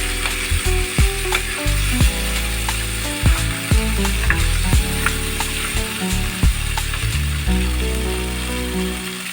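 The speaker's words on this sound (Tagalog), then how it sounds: "Haluin natin ng konti." Malibanos fish sautéing in a pan with alagaw leaves while being stirred, a loud steady sizzle with repeated sharp scraping clicks from the utensil throughout.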